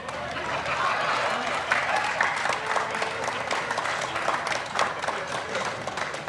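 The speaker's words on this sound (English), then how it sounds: "You may applaud." Audience applause at a Salvation Army Christmas kettle campaign kickoff as the city mayor is welcomed to the podium, a sustained wash of clapping mixed with crowd murmur and voices throughout.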